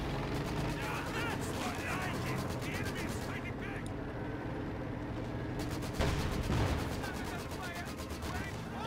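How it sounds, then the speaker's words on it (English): Panther tank firing its gun in Company of Heroes 2, set within a dense, continuous battle din of rapid gunfire and artillery, with someone commentating over it throughout. "the Panther, at the very edge, getting some shots off on that 40mm gun"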